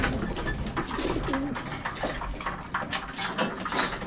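Homing pigeons cooing in their breeding loft, several soft overlapping coos and murmurs close by, with light rustling and faint watery sounds in the background.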